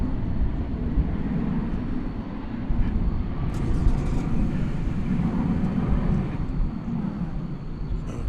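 A Qatar airliner passes over a bridge in the distance, a broad, steady rumbling roar that swells gently and holds for several seconds with no voices.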